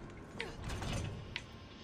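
A door mechanism opens in Resident Evil 3, giving a short, faint creaking and grinding mechanical movement with a couple of small clicks, heard on its own.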